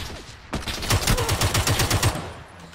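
A burst of rapid gunfire in the battle royale game PUBG, about a dozen evenly spaced loud shots over roughly a second and a half, set against quiet background ambience.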